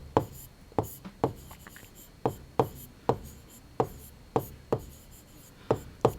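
Chalk or marker writing on a board in a classroom lesson makes sharp, faint taps and short strokes at an irregular rhythm, with quiet room noise between marks.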